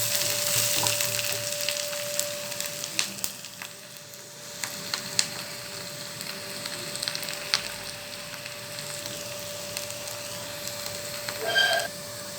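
Chopped onions sautéing in a pan for a keerai paruppu (greens and lentil) dish, a steady close sizzle and crackle with scattered sharp pops and occasional stirring scrapes, no talking.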